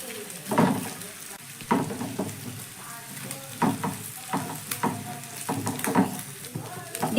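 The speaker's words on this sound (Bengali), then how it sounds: "এবার একটু নাড়াচাড়া করে ডিমের ভুজিয়াটা রেডি করে নেব" Scrambled eggs for egg bhujia fry in a pan with a sizzling bed of sound, and irregular scraping stirs knock against the pan.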